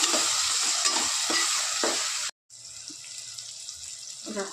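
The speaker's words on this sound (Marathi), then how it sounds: "आता टमाटर टाकू। आपण मस्त तळून घेऊ नरम होईपर्यंत।" Tomatoes frying in a pan give off a loud, steady sizzle with stirring scrapes. The sound cuts out briefly, then returns as a quieter sizzle with occasional clinks.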